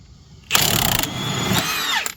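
A power tool runs at a steady whir for about one and a half seconds while tightening a nut on a Dodge Charger strut, then stops abruptly. The sound is close and fairly loud, with no talking.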